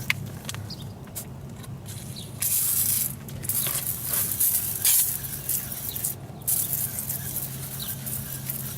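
A hose sprays foaming cleaner onto an HVAC unit as a steady hissing rush with a low mechanical hum underneath, swelling and easing in bursts at close range.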